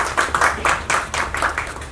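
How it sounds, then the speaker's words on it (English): An audience gives a round of applause at an event marking a new version of a national anthem, steady dense clapping from many hands, close and fairly loud, lasting two seconds. "A big round of applause."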